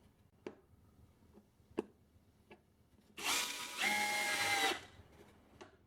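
Power screwdriver sinking a screw into cedar planter boards, a single short whirring burst at close range that rises in pitch partway through, set among sparse taps and clicks.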